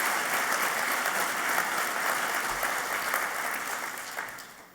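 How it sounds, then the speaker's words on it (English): An audience at a governor's speech claps together, a dense steady patter of hands that fades toward the end, with no talking over it. "That one's worth a clap."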